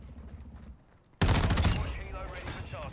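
Tempus Razorback rifle fire in Modern Warfare 2, a sudden loud burst of rapid gunfire after a quieter moment, trailing off into game noise.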